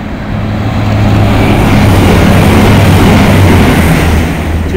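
A Voyager train from Chester passes through Nuneaton station without stopping. Its loud, close roar swells in over the first second, holds as a broad rumble with low humming engine tones, then eases slightly at the end.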